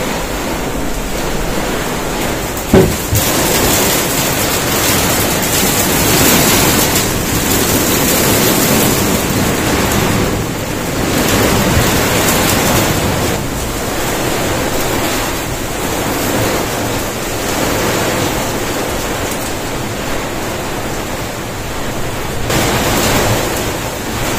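Stormy weather around a caravan, with loud, constant rushing noise from rain and wind buffeting the vehicle, swelling and easing in waves with one sharp knock early on.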